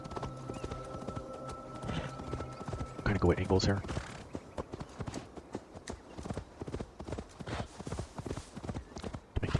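Rhythmic hoofbeats clop steadily after a horse whinnies, with someone talking over the galloping in the video game Assassin's Creed Valhalla.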